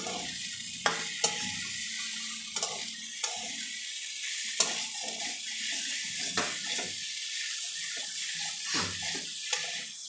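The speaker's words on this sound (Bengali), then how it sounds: "আমি আলুগুলো দিয়ে দেবো। মশলাটা কষানো হচ্ছে।" Potatoes and spice paste sautéing in a pan for a fish-head curry, a low sizzle broken by repeated stirring scrapes and spoon taps, fairly quiet and without talk.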